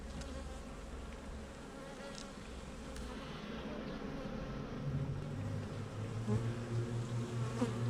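Worker honey bees swarm over a heavy, nectar-filled hive frame, their dense, continuous buzzing close and steady throughout, swelling slightly toward the end, with no voices.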